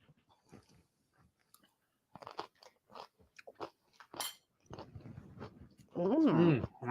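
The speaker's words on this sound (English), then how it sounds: "I like that crunch." Crisp bites into pecan crusted cod, a scatter of sharp crunches and chewing clicks close to the microphone, followed by brief voiced speech at the end.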